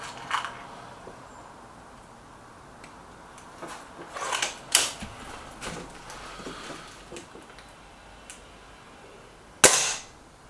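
Crosman Silver Fox air rifle fired at a target, a few sharp clicky reports spread across the stretch, with one louder crack near the end, moderately close and without talk.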